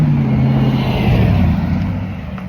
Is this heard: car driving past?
yes